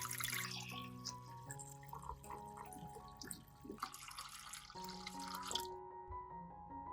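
About a liter of cold water is poured into a cooking pot, giving an uneven splashing rush in several bursts over steady background music, then stopping near the end.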